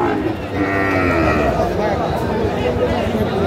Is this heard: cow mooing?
yes